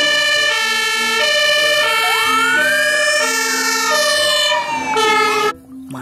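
A toy ambulance blares a loud electronic siren close by, cycling wailing and alternating tones continuously before cutting off abruptly near the end.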